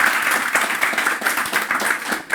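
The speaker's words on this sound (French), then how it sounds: "On l'applaudit." An audience at a Sunday church service applauds together, a dense steady burst of clapping that carries on through the whole moment.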